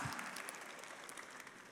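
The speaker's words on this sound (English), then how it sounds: "Yes, you can clap for that" A church audience gives brief, soft applause during a sermon, with distant, even clapping and no talk over it.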